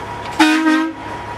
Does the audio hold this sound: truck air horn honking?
yes